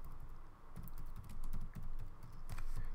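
Keys on a computer keyboard clatter in quick, uneven bursts of clicks, fairly soft and close, with short pauses between runs and no voices.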